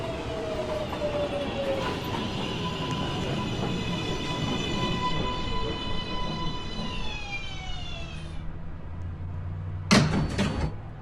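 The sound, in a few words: New York subway 1 train arriving at station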